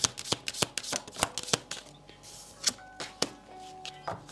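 Tarot cards are shuffled in a rapid run of crisp riffling slaps and flicks, close and fairly quiet, with brief pauses between bursts and no talking.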